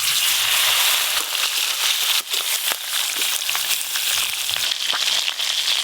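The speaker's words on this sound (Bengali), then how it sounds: "এবার সব মাছগুলো ভেজে নেব।" Fish frying in hot oil, a steady bright sizzle punctuated by sharp pops and spitting crackles at irregular moments, fairly loud and close, without talk.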